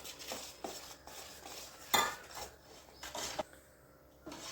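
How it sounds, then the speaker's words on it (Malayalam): A spoon works rice flour dough mixed with hot jaggery in a bowl, giving close, soft scraping strokes and a few sharper clinks against the vessel, irregular and quiet. "ഒരു സ്പൂണ് വെച്ച് നന്നായിട്ട് കുഴച്ചു കൊടുക്കുക."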